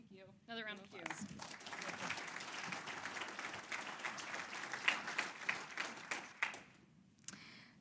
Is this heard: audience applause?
yes